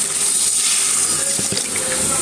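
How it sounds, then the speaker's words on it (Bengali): Water pours and splashes into a simmering fish curry made with green tomatoes, a soft steady gush with a few brief splashes, heard alone at moderate level. "এখন একটু জল দিয়ে নিব।"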